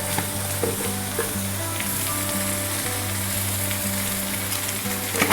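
A chilli mixture with salt is roasted in a pan, making a constant close sizzle with occasional scraping stirs and a few sharper clinks toward the end, without any voices.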